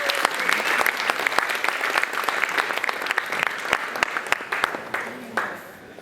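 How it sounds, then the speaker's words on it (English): Warm applause from a seated audience at an economics education panel, greeting speakers as they take the stage, dense sustained clapping that fades toward the end. "give us a warm applause for Florian Wagenaar"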